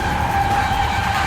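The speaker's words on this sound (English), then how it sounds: "We just did a smoker in a Porsche." Porsche Taycan Turbo S electric car spinning its tyres in a smoky burnout, a steady loud tyre squeal with a held high whine running through the whole moment, close and continuous.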